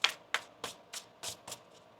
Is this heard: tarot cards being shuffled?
yes